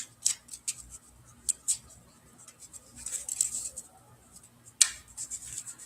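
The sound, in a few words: tarot cards being shuffled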